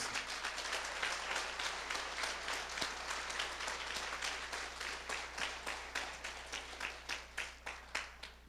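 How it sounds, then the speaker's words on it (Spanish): Church congregation applauding during a Spanish-language sermon, soft but dense clapping that thins into a few slower, distinct claps toward the end over a low steady hum. "Dale un aplauso a Dios."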